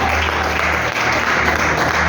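Congregation clapping hands together during an evangelical church service, a dense, steady wash of applause filling the room at close range for the whole stretch, no voices standing out.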